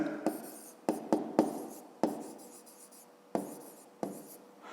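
A pen writes on paper while working a fifth-grade maths exercise, with several short, distinct scratching strokes separated by brief pauses, close and fairly crisp.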